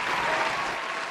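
A round of applause from a small group, a short steady burst of clapping that carries evenly and tapers slightly at the end.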